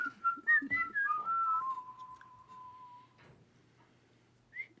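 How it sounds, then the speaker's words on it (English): Clear melodic whistling at night in the hills, with a short run of rising and falling notes followed by one long sustained tone, then quiet with a brief faint chirp at the end. "How close does the whistling sound like it is?"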